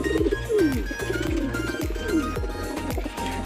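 Racing pigeons cooing close by, repeated soft throaty coos overlapping in a steady rhythm, with faint background noise.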